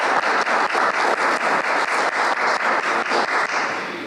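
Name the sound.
meeting attendees applauding for birthdays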